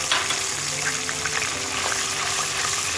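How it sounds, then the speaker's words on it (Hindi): Sauce ingredients frying in a pan over a low flame for Mongolian chicken gravy, a steady dense sizzle with a watery hiss that holds evenly throughout, close and fairly loud. "बस इन्हें मैं 2 सेकंड के लिए अच्छे से फ्राई करना है"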